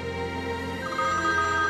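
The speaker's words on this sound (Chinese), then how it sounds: "少谦没带电话出去" A telephone left at home rings indoors, a steady electronic ringtone tone that holds on and grows slightly louder partway through, with no one speaking.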